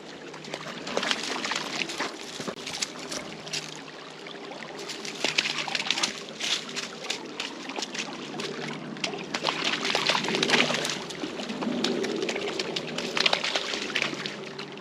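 Continuous splashing and trickling water, close and lively, with irregular bursts of sloshing as a dog moves about in it.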